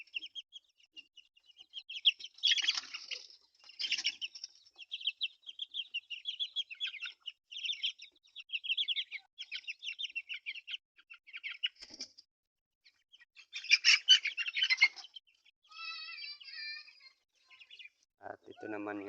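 A mother hen with her newly hatched chicks gives off steady, busy high-pitched peeping and soft clucking at close range, continuing for the whole stretch with brief pauses.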